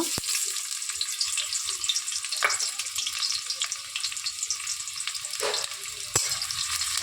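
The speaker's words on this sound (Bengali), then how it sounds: "পেঁয়াজটাকে খুব ভালোভাবে ভেজে নেব" Chopped onion spits and crackles in hot oil in a wok, a continuous close sizzle broken by a few sharp stirring clicks and scrapes, with no talking.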